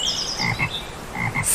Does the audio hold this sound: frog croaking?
yes